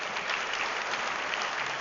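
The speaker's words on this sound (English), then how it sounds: "I would love to have a huge round of applause for the 4 kids" A crowd at a Vasant Panchami celebration gives steady, dense applause for four children who sang Sanskrit mantras, an even wash of clapping with no break through the whole moment.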